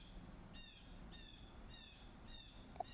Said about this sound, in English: Is that a bird? I've always got birds out here screaming.